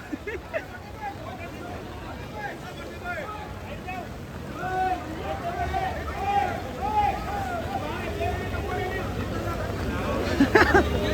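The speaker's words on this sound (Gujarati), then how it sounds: "સમજો ટ્રેક્ટર જાય." A tractor churns through flood water in Surat with steady splashing and sloshing, while people chatter and call out nearby throughout.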